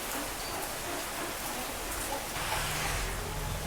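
Steady rain falling outdoors, a continuous soft hiss of drops on surfaces that stays even and fairly close throughout, with a low rumble underneath and no voices.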